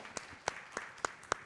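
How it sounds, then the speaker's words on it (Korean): Brief scattered clapping from a conference roundtable audience, a handful of separate sharp claps spread across a second and a half, fairly faint and sparse rather than a full ovation. "예, 박수 부탁드립니다."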